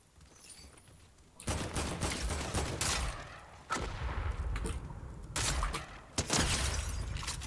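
Heavy gunfire in a Fortnite no-build match at Tilted Towers, loud rapid bursts of shots and cracks in several clusters, close and without talk.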